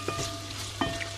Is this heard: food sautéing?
yes